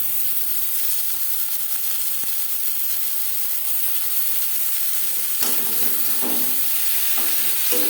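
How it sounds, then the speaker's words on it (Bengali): Marinated banana stem stir-fried with browned onions for Bengali thor bhaja gives a steady close sizzle under a constant frying hiss, with scraping stirring strokes growing busier toward the end. Nobody speaks. "পেঁয়াজের সাথে থোড় বেশ ভালো করে মিক্স করে দেব।"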